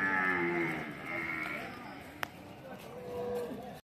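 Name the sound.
cows at a buffalo and cattle market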